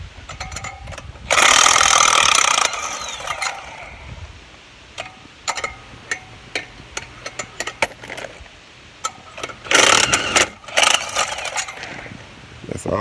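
Bolts being unbolted with an impact wrench: two loud sustained whirring bursts separated by scattered metallic clicks and clinks of loosened bolts and parts, fairly close, with no talk over it.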